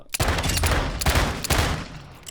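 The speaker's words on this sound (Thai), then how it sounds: "สมมติใส่ คิมโบนะครับ นี่ เนี่ยครับสองมือ ซ้ายยิงซ้ายครับ ที่ขวายิงขวาครับ" Dual akimbo pistols in Warzone 2.0 fire in a loud, rapid burst of overlapping shots, with several sharp peaks as left and right guns alternate, close and continuous without talk.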